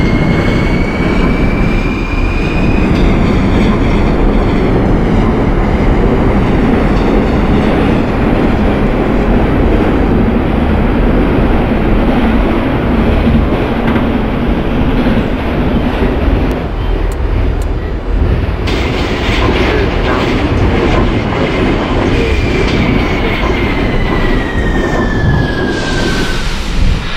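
An R46 subway train runs in the OpenBVE train simulator game, a loud, continuous rumble of wheels and motors with a whining tone that rises and falls, and no voices.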